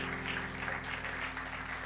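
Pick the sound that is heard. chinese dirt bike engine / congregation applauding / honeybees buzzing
congregation applauding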